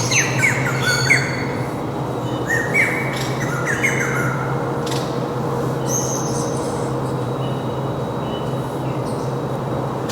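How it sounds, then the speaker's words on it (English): A zoo aviary holding over 100 birds fills with repeated sharp squawks and chirps, close and overlapping, above a steady low hum. "catching birds flying in an aviary that has over 100 birds in it"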